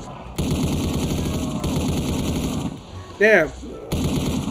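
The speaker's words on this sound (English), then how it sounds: "Oh, it gave me a minigun!" A minigun fires in Black Ops 3 Zombies, a continuous, dense stream of rapid shots that breaks off briefly while a person exclaims loudly, then resumes.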